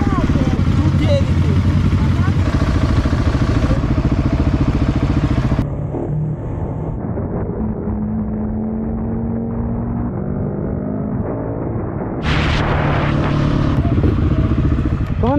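A motorcycle doing a wheelie roars loudly and close, revving hard, easing off into a lower rumble, then surging back up to full throttle.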